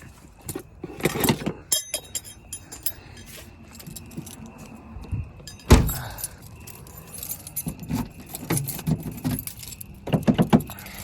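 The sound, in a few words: car keys jangling while locking an Audi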